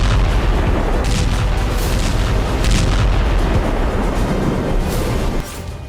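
Heavy bombing in Kherson, with bombs dropped from aircraft: deep, rumbling blasts and booming explosions roll on continuously, loud and dense, with sharp bursts scattered through and no voices.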